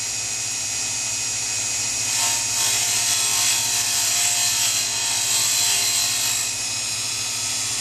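A diamond dresser on XY slides trues a grinding wheel on a Sherline CNC cam grinder, giving a continuous high-pitched hiss and whine that swells and eases over several seconds, close and steady with no talking.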